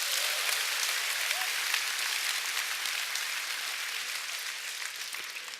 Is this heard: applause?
yes